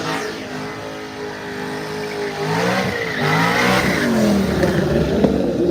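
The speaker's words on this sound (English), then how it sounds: "You hear it paying off the rev limiter a couple times." A race car with transmission trouble at a Miles of Mayhem racing event revs hard and bounces off its rev limiter, a loud, close, continuous engine roar with wavering pitch and no talk.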